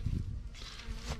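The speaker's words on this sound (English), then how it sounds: "There's a bee on you." A bee buzzes close by in a garden near worm bins, with a brief, fluctuating drone lasting about a second.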